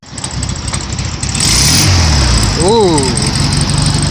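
Air-cooled engine of a 1972 Volkswagen Beetle cranking and catching, then idling loud and steady close by, with a brief exclamation from a person over the running engine.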